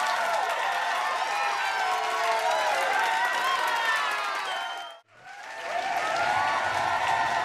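Canned studio audience applause rolls on as a dense wash of clapping, fades almost to silence for a moment, then swells back up.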